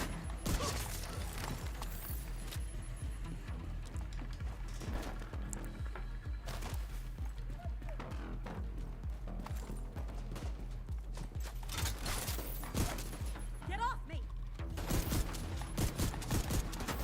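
Shotgun fire in the video game The Division 2, a rapid series of sharp, punchy blasts with mechanical clicks of the weapon between shots, close and loud throughout.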